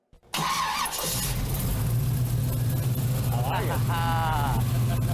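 A fuel-injected race car engine cranks and catches, then settles into a loud, steady rumbling idle close by, with people talking over it.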